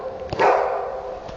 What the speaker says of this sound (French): Un chien enragé.